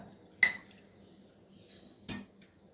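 A spoon clinks against a bowl while soaked semolina batter is stirred together with grated coconut for paniyaram. Two sharp, close clinks about 1.5 seconds apart stand out over a quiet background, with no talking.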